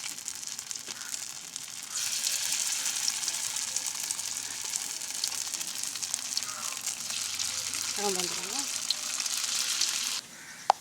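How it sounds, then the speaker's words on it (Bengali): Corn fritters frying in oil on a griddle give a steady, fairly close sizzle lasting throughout, briefly joined by a voice and ending with a sudden drop near the close. "আমাদের ভুট্টার বড়া লাল লাল করে ভাজা হয়ে গেছে"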